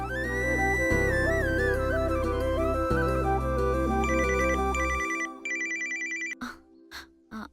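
A phone ringtone plays a looping electronic melody, loud and close, for several seconds before switching to a brighter beeping pattern and cutting off.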